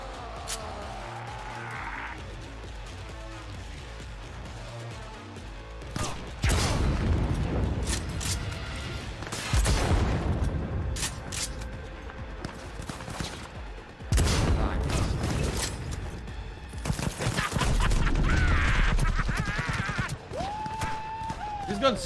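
Bursts of smart weapon gunfire and booms in a shooter video game, loud and clustered in uneven volleys over a steady din of engine and action noise.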